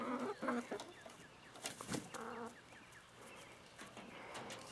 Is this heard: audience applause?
no